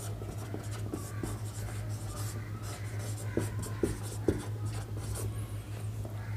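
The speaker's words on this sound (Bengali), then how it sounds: "জল আর ডেটল, আগে লিখে নিই অনুপাতটা।" A pen or pencil scratches out numbers by hand on paper, steady close strokes with small taps over a low electrical hum, and no one speaks.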